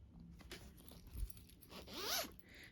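A zipper slides open on a lightly quilted fabric project bag, one short close scrape that rises toward its end, with no voices.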